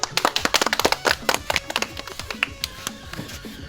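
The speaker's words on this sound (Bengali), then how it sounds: "হাততালি দেন একটা।" A small audience claps for a prize winner at a Bangladeshi game show, brisk close hand claps that start dense and thin out into scattered claps.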